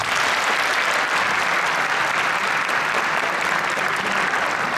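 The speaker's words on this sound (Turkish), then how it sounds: "sizlerden kuvvetli bir alkış istiyorum" Steady, dense applause from an audience at a governor's event for students, a continuous wash of many hands clapping at full strength throughout with no voices on top.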